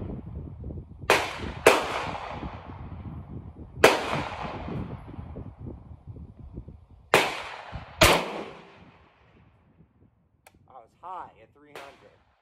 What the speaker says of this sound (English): I'm gonna take one shot at 300 meters